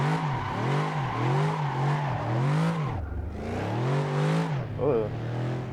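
Coyote V8 swapped into a Toyota 86, Subaru BRZ or Scion FR-S, revving repeatedly in rising and falling sweeps, loud and close, with one brief drop before climbing again.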